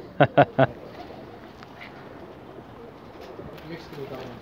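Mixed-breed red-eyed pigeons give three short, loud coos in quick succession at the start, followed by quieter ambient noise and faint further calls.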